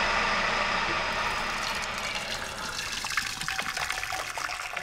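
Water pours from a tap into a pan for soup in a home kitchen, a steady rushing stream that thins into uneven splashing and trickling near its end, with no talking.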